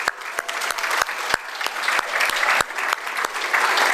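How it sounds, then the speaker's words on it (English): Loud, dense applause from an audience at a business hall of fame awards evening, steady clapping throughout with a few sharper claps standing out. "Let's hear a round of applause for all of those fine people"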